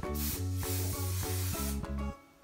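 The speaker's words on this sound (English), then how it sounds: "I'm just going to do a light spray." Hairspray is misted lightly over braided hair in short hissing bursts, six or seven close, fairly loud pulses in quick succession, with a tonal buzz under each burst.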